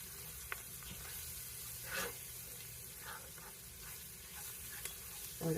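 Potato soup with bacon simmers in a pot, giving a faint, steady low sizzle and bubbling with a few soft clinks and stirring sounds, no talk.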